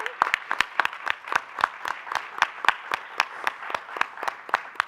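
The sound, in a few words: audience applause for an educator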